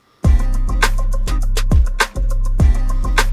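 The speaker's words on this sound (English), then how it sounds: "when I turn on the trap drums here" Trap drums in a pop beat thump with heavy deep booming kicks and crisp snappy hits over a steady bouncing rhythm, loud and upfront with no voices.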